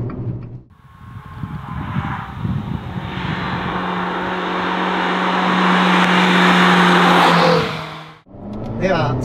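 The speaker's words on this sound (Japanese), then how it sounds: "では少し速度を上げて上り坂をまず登っていきます。" A Fiat Abarth 695 70th Anniversario hatchback in sport mode accelerates uphill, its engine note rising steadily and loud for several seconds, then cutting off abruptly before a brief burst resumes, heard from close inside with no talk.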